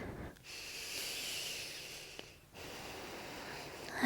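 A deep yoga breath, a long, steady inhale through the nose, a short pause, then another breath begins, soft and close in a quiet room.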